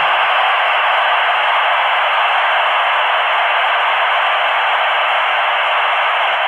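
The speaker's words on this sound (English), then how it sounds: "I am playing the data, passband data to the speaker" Passband channel data at a 9600 Hz rate is played through a speaker as a steady, loud hiss of broadband noise, unbroken and alone throughout.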